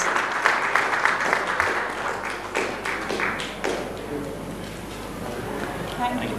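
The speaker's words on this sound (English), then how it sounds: "a consolidated round of applause this time" A conference audience at an e-commerce marketplace event claps for a panel of speakers, a fairly close round of applause that gradually thins out, with a voice talking over it.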